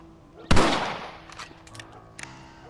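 Rifle fired in the Red Dead Redemption video game: one loud, close shot with a ringing tail, then a few fainter, scattered sharp sounds.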